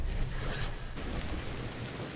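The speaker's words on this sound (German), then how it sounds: "Ja, es regnet sowieso." Steady rain falls across a prehistoric landscape in the survival game Ancestors: The Humankind Odyssey, a dense, even wash of noise filling the whole stretch with a brief dip partway through.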